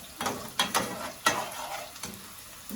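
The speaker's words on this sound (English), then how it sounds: "Fry your onions for like maybe 90 seconds." Onions fry in a pan for a Nigerian rice and stew, quiet sizzling broken by sharp scraping clicks of a spoon stirring, about half a dozen distinct knocks spaced irregularly.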